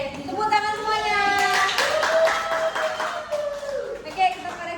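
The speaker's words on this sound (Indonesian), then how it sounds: "Tepuk tangan semuanya." Classroom students clap together in a short burst of quick, bright hand claps, mixed with children's voices talking and calling out over it.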